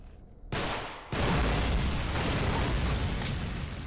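Explosions thunder through the game Underhell, one sharp blast after a quiet start and a heavier one at about a second, followed by a loud, sustained low rumble and crackle with no voices.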